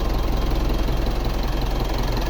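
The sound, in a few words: Mitsubishi Montero Sport 2012 engine running after new key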